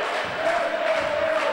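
Crowd applause and cheering from spectators at the end of a youth football match between Hajdúnánás SK and Ferencvárosi TC, a distant, steady wash of clapping and voices with a sustained tone running through it.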